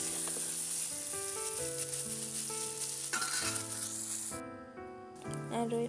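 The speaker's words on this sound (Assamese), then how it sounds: "এইটো ফ্ৰাই কৰি থৈ দিম মই" Lentils frying in a pan at home, a loud continuous sizzle close by that runs the whole time with a melody playing over it.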